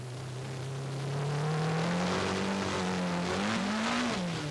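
A 450-horsepower turbocharged mid-engine rally car on snow at the 1986 Monte Carlo Rally, its engine droning and swelling with rising and shifting pitch as it accelerates, loud and close with no talking.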